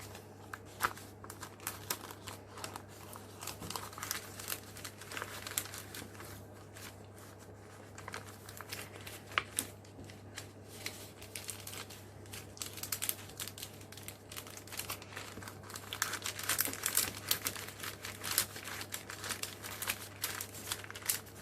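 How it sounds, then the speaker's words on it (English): A paper book page slides into a cellophane bag, giving a soft, continuous crinkling and rustling up close that swells toward the end, over a low steady hum. "all you do is you pop your page inside your cellophane bag."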